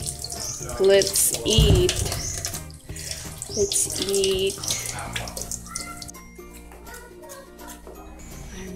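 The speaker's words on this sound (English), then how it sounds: "Let's wash up the mangoes" Mangoes being rinsed under a running kitchen tap, water splashing steadily into a sink with light clinks, while a person talks over it nearby.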